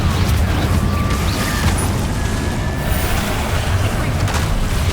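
Confringo blasting spells bursting in a Hogwarts Legacy battle: a dense, continuous roar of booming low rumble and crackling impacts, loud and sustained throughout with no clear pauses, a chaotic wall of spell explosions and combat noise.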